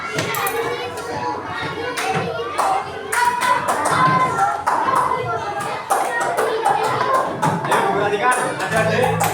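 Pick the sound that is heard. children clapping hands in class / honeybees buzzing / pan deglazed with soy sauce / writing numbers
children clapping hands in class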